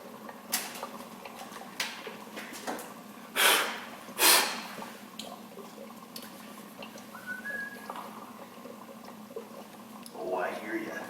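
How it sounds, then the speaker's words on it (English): Air hissing from a leaking intake tuning valve on a Ford Taurus running lean, a steady faint hiss under the idling engine with a few loud breathy bursts and brief speech nearby. "That intake tuning valve is leaking like a sieve."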